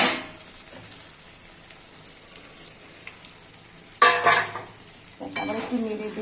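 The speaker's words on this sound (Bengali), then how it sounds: "আবার একটু নেড়ে দেবো।" Mutton and fried potatoes being stirred in a pot, a soft steady sizzle that jumps into louder scraping, clattering stirs twice near the end, with faint talk in the background.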